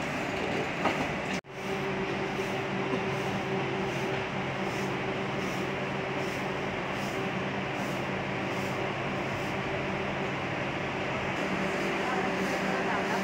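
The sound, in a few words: train arriving at station, Alappuzha to Thrissur train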